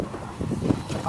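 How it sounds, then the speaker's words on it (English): Wind rushes steadily across an open, elevated outdoor spot, a brief close rumble of buffeting gusts with no voices heard. "A little windy up here."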